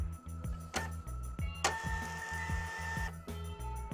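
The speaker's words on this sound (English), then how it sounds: "The media now prints with even pressure and good resolution." A Zebra ZT220 label printer runs with a regular ticking, stepping mechanical rhythm, near and fairly quiet, with a brief whirring burst partway through and no talking.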